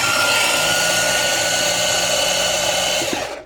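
NUNET cordless rechargeable food processor whirring continuously as it chops already-sliced mushrooms finer, a loud, steady motor hum close by that winds down at the end, with no voices.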